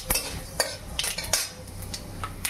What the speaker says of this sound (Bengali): এবার এটাকে ভালো করে একটু নাড়িয়ে নেবো।